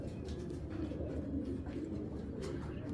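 Young racing pigeons coo in a low, continuous murmur close by, a soft rolling hum with faint rustles over it.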